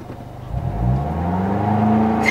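A manual transmission car's engine revs up steadily under added gas, a loud, close, rising drone with no talk over it.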